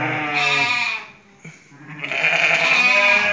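Sheep bleat loudly and close by in a farm shelter, two long drawn-out calls with a brief quieter gap between them and no voices.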